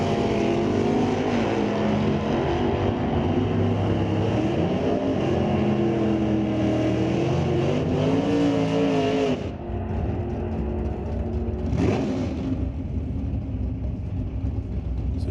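A 1996 Chevrolet Camaro with a K automatic drag racing at Mission Raceway, its engine roaring loudly and rising in pitch as it accelerates, then dropping away before a second brief surge.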